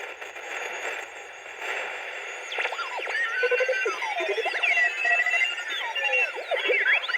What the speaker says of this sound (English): Here's the Morse code.